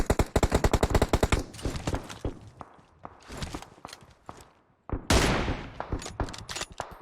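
Gunfire in the PUBG Mobile video game: rapid automatic bursts and scattered single shots, mixed with footstep-like clatter, a brief lull, then another loud burst of fire.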